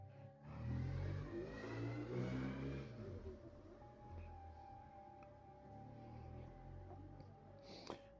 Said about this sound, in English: Sorry if you hear motorcycle sounds from the outside